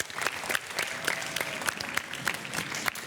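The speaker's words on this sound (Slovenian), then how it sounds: "En velik aplavz za drugo uvrščeno, osnovna šola Korena." Applause from a school audience for Korena primary school, placed second in a cup-stacking contest: dense, steady clapping from a small crowd with some louder individual claps, sustained throughout.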